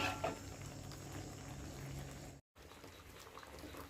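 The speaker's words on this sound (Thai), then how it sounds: "ทีนี้เราก็เคี่ยวไปให้มันเหนียวนะคะ" Sugar syrup for crispy glazed peanuts simmering over medium heat, a steady close bubbling and hissing that runs throughout, broken only by a split-second dropout midway.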